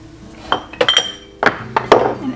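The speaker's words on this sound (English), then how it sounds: "I'm going to start by heating up this cast iron pan" Cast iron pan handled on a stovetop, a series of close metallic clinks and knocks in irregular clusters over a quiet background, with no voices.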